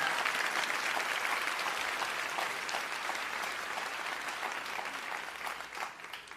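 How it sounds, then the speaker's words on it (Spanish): A church congregation applauds during a service, a broad sustained wash of many hands clapping that stays steady and then tapers slightly toward the end. "si vas a aplaudirlo con más ganas el día de hoy"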